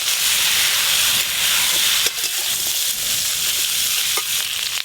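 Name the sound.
chopped vegetables frying in mustard oil with turmeric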